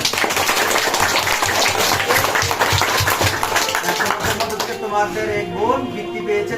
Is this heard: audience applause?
yes